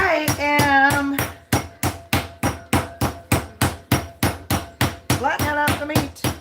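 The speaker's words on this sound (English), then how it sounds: "flattening out the meat so it cooks quick and evenly" Meat being pounded flat for schnitzel, a run of about twenty sharp, evenly spaced hammer blows close up, with brief talk at the start and end.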